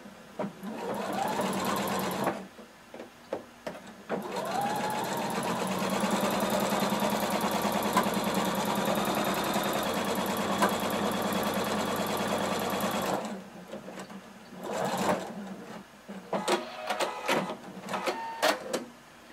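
A sewing machine runs steadily, stitching a 5/8-inch seam on a fringe kimono, with a sustained whirring hum for about nine seconds, framed by shorter bursts and pauses before and after.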